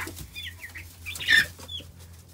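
Large, fast-growing chicks in a brooder give short clucks and peeps in a quick close flurry, with one louder squawk in the middle and light rustling beneath.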